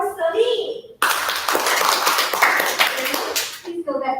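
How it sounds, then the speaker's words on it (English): A round of applause for Celine after her speech on a small stage: a sudden burst of brisk clapping from a small audience, lasting a few seconds before cutting off, with voices talking just before and after. "let's give a round of applause for Celine"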